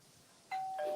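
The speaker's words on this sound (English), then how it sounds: "Doorbell." A doorbell chimes twice in a two-tone ding-dong, clear and fairly close over a quiet background of low room noise.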